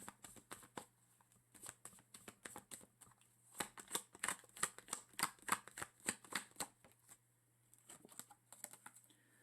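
Tarot cards are shuffled in a quiet run of quick, crisp riffles and soft slaps, clustered in rapid bursts, close and alone with no voice.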